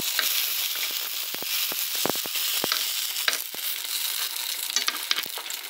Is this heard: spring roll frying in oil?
yes